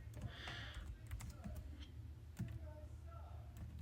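Code is typed on a computer keyboard in short bursts of quiet, close key clicks with gaps between, faint over a low room hum.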